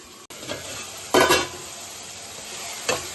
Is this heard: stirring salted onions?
yes